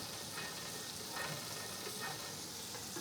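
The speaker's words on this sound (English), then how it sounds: "butter is spreading around flat skillet" Melted butter sizzling and spreading across a flat skillet, a steady soft frying hiss with faint scraping touches.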